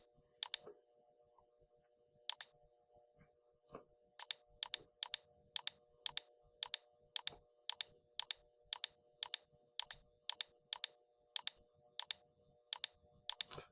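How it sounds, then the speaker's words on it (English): Rapid, crisp mouse clicks selecting faces in a CAD program while modeling a Lego 4x6 plate, a couple of early clicks followed by a long steady series of evenly spaced sharp taps, close and distinct against a quiet room. "I'm just going to go through and click on the faces."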